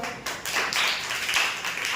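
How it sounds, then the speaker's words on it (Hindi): Children in a classroom clap their hands together in a burst of quick, overlapping claps, fairly close and steady for a couple of seconds, with no talking over it. "ताली बजाओ।"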